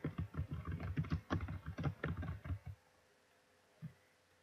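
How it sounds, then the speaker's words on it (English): Rapid typing on a computer keyboard, close and clear, with dense clattering keystrokes for about two and a half seconds, then quiet apart from a single soft tap near the end. "Now type your title in capital letters"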